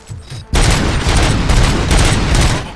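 Robots in RoboCop: Rogue City open up with a sudden loud fusillade of rapid gunfire after half a second of quiet, a dense close barrage that stays sustained before easing slightly at the end.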